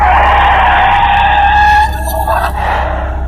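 A car loses balance and skids to a sudden stop. A loud, sustained tire squeal lasts about two seconds, then breaks off into a rough scrape and settles, with no voices.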